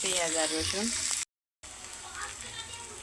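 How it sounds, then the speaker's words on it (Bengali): Onion and garlic hit very hot oil for a bhorta and sizzle steadily in a broad hiss, with a voice talking over the first part, a brief silent gap, then continued frying. "এই যে তেল বেশি গরম হয়ে গেছে, পেঁয়াজ রসুনগুলো এখন তেলে দিয়ে দিয়েছি"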